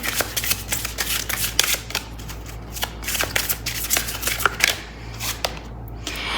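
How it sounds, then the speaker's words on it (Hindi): Oracle cards are shuffled by hand during a card reading, a rapid series of crisp riffling flutters and soft slaps, close and fairly loud, with no talking. "लेट्स सी आपके पार्टनर के लिए थोड़े से ऑरेकल कार्ड्स भी लूँगी।"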